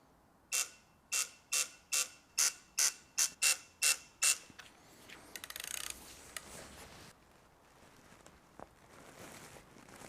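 A torque wrench clicks while a bolt is tightened to 10 newton meters, a quick run of about ten sharp, evenly spaced ratcheting clicks up close, followed by fainter rattling and handling.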